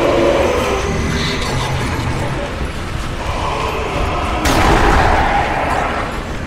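A grenade explodes in the Nazi Zombie Army shooter with a sharp, heavy blast late in the moment. Steady gunfire and game noise run throughout, and voices can be heard.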